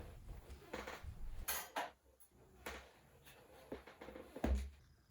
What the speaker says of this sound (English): and then we're going to drop our bowl on top.